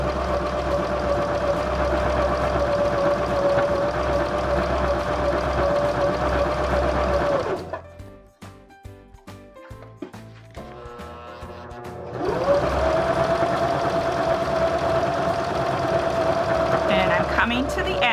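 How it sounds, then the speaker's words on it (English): A Baby Lock Zeal sewing machine hums steadily as it stitches decorative couching, stops for several seconds of quiet handling noises, then starts up again with the same even whir. "We'll just stitch down to the bottom"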